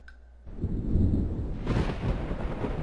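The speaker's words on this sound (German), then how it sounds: "Hier ist voll das Gewitter." A thunderstorm in the adventure game Return to Mysterious Island: a heavy low rumble of thunder swells and rolls on, with a rushing rain-like wash building toward the end, loud and alone with no talk.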